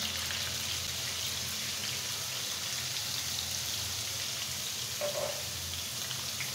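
Potatoes frying in a pan with turmeric give a steady, dense sizzle with a faint crackle, close and continuous throughout, with no talking.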